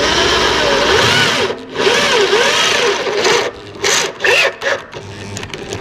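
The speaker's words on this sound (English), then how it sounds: "Alright, watch a pro drill a hole." A power drill bores through thick metal with drilling lube, its loud whining motor rising and falling in pitch as the bit bites, cutting out briefly and restarting in short bursts, up close.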